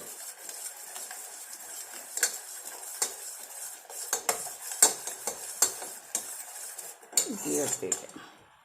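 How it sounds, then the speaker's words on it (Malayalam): A spoon clinks and scrapes against a metal pot while a natural hair dye mixture is stirred, giving irregular close taps and scrapes with a busier rattling stretch near the end. "അതുകൊണ്ടാണ് ഇളക്കി കൊടുത്തോണ്ടിരിക്കുന്നത്"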